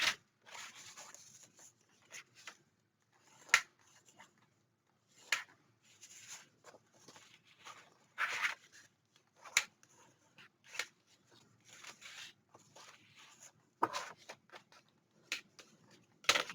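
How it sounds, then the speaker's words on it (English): Paper pieces for a craft album are folded and burnished, giving intermittent soft rustles, creases and short rubbing strokes in irregular bursts, close and quiet, with pauses of near silence between. "now let me fold and burnish these"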